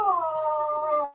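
A sad dog gives one drawn-out, high whimpering whine that slowly slides downward, close and clear, ending with a brief catch.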